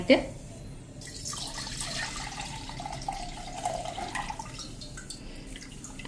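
Water is poured into a vessel to rinse and drain leftover malai buttermilk, making a soft, continuous trickle and splash that stays quiet throughout.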